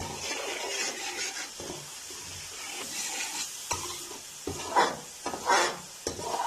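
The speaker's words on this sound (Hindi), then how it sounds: "तकरीबन 30 सेकंड के लिए हम जो है मसालों को भून लेंगे" Spices with kasuri methi sizzle in a pan while a spoon stirs and scrapes them in short bursts, with a few clinks of metal against the pan. The frying is close and moderately loud, and nobody speaks.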